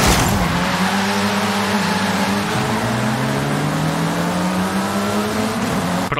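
A Lamborghini Gallardo Spider race car screams through its gears in a racing video game, the engine note rising steadily between upshifts with tire noise underneath, loud and close throughout.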